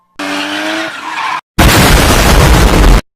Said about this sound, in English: crashed the car.